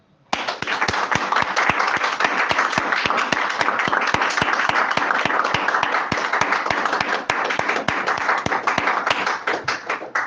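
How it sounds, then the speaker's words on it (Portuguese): A small group claps in a steady, fairly quick rhythm for nearly ten seconds at a gathering, each distinct hand clap sharp and close, starting abruptly and holding loud until the end. "eu gostaria de chamá-los a uma salva de palmas para a gente agradecer a Deus"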